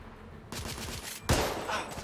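Gunfire in The Order: 1886 video game during a rebel ambush, loud dense bursts of shots with a heavy blast partway through, close and continuous.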